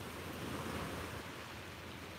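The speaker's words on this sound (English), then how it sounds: "listen to the sound of those waves for one more minute" Ocean waves breaking on a beach at sunrise make a steady, broad wash of surf with a gentle swell and fade, fairly close, with some wind noise on the microphone and no voices.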